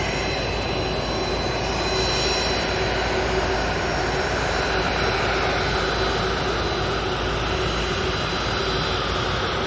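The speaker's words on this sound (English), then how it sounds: "Our next arrival will be a prop. It's an Aer Lingus ATR 72 from Belfast" A steady, loud engine drone and propeller hum from an Aer Lingus ATR 72 turboprop arriving at Manchester Airport, with a constant tonal whine carried over broad roaring noise throughout.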